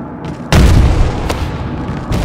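A grenade blast in the shooter game Ballistic Overkill lands as one loud, close boom with a rumbling tail, followed by sharper gunfire-like cracks.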